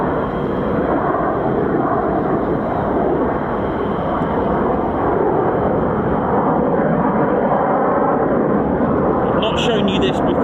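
Fighter jets, F-15s or F-35s of the 48th Fighter Wing, landing at RAF Lakenheath, a loud continuous roar that stays steady throughout with no voices over it.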